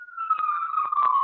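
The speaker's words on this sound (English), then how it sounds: "there's some sirens in San Francisco right now." An emergency vehicle siren wails on a San Francisco street, a single loud tone gliding slowly downward over about a second, with faint bursts of noise beneath it.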